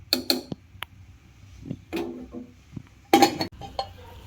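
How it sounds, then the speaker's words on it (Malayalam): Metal pot of dal curry with Mysore spinach being stirred, then covered: several sharp clinks and clatters of a spoon and lid against the pot, close up, with quiet gaps between bursts. "ഇനി ഇതൊന്ന് ഇളക്കി കൊടുക്കണം നമുക്ക് ഇത് നല്ലതുപോലെ ഇളക്കിയ ശേഷം ഇനി അതൊന്ന് അടച്ചു വെക്കുക"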